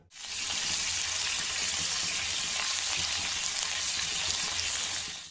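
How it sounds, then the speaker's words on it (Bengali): Scallions hit hot mustard oil seasoned with dried chili in a pan, setting off a loud, close, continuous sizzle that rises abruptly and holds steady without talk. "এবার পেঁয়াজকলি দিয়ে ভেজে তারপর কড়াই শাকগুলো তাতে দেবো।"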